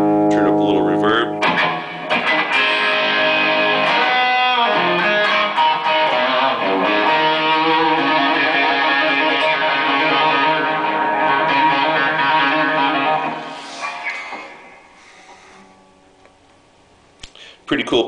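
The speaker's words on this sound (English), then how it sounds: "Turn up a little reverb." Sustained Gibson Firebird X electric guitar chords ringing with a spacious reverb tail, played steadily for most of the clip before fading out, with a short burst near the end.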